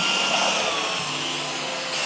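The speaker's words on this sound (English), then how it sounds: "I'm using a paint mixer because there is so much grain going into this one." An electric paint mixer churns a thick beer mash of grain for a hazy IPA, a loud continuous motor whir with a rough, steady churning texture close by.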